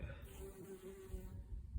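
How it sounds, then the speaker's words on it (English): Bees buzzing inside small cactus flowers in a desert area along a hiking trail, a faint steady drone heard up close with a soft breezy background. "enjoying these little cactus flowers with these little bees inside there"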